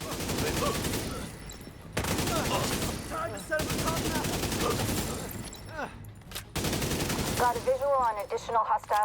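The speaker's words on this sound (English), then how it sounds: "There is something to my right shooting me." Rapid video game gunfire in sustained bursts aimed at the player, loud and dense, broken by short gaps, with game sounds mixed in.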